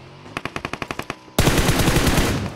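In PUBG Mobile, a rapid burst of about ten sharp gunshots in a steady rhythm, then a loud, sustained roar of continuous automatic fire close by.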